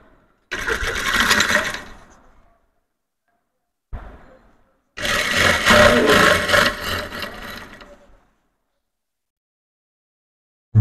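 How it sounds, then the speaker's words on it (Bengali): Sewing machine stitching a flat, salwar-drawstring-style strip of fabric in two loud whirring runs, a brief stitch burst between them, separated by silent pauses. "আমি সালোয়ারের ফিতার মতো করে একটু চ্যাপটা করে সেলাই করে নিচ্ছি।"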